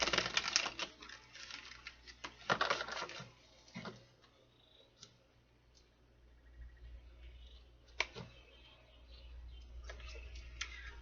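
Quiet riffling and flicking of cards in short bursts, with soft taps and pauses between, close up in a still room.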